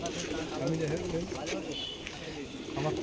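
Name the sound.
pigeons cooing in a pigeon loft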